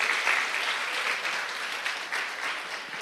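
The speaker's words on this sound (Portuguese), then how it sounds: "Pode aplaudir a Jesus, sim, ele vive." A church congregation applauds steadily for about three seconds at a Resurrection service, the clapping dense and fairly even at moderate volume with no voices over it.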